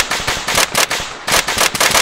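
A group of shooters fires a volley of gunshots together: a rapid, loud string of close sharp cracks in uneven bursts, with brief gaps between clusters and no talk over it.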